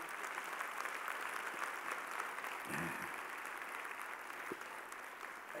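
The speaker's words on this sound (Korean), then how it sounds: "박수 한번 하겠습니다" A church congregation in Queens claps in a steady, even wash of applause, faint and fairly distant, holding without pause for several seconds.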